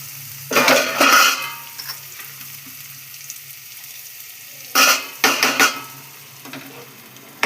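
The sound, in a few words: frying chopped onions in a pan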